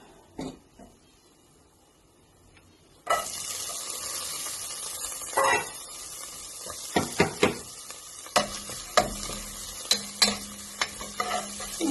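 Onions drop into hot oil in a pan, and a loud sizzle flares up after a quiet start, then holds steady with a few sharp crackles and spatters.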